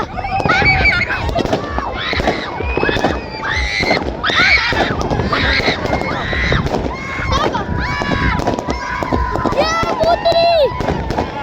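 New Year fireworks and sparklers crackle and burst repeatedly, with pops and whistling streaks, while a crowd nearby shouts, screams and chatters loudly throughout.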